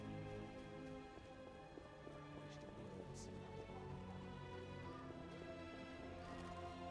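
Rain falls steadily around a city in The Witcher video game, a soft, continuous patter of drops that stays quiet and even throughout.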